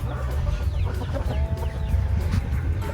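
Fighting roosters at a Thai fighting-cock farm cluck steadily in a dense outdoor mix, with continuous low background noise running underneath.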